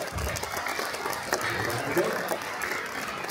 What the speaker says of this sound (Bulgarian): Силни аплодисменти за нея